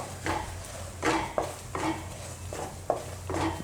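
Besan (gram flour) roasting in hot oil while a spoon scrapes and stirs it through the pan in repeated strokes, a low sizzle underneath and no one speaking.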